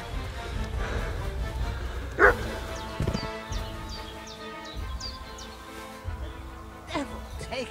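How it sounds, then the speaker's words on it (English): A dog barks several times in Kingdom Come: Deliverance II, sharp single barks spaced out over a few seconds amid game sounds and birdsong, with voices speaking in between. "Sick 'em, There's that Growler"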